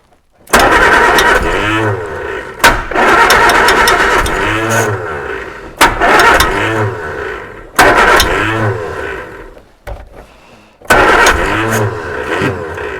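A Reliant Super Van engine, running for the first time in 37 years and firing on only one or two cylinders, cranks and catches in repeated bursts. Loud, close, rough uneven running separated by brief pauses, with no talking.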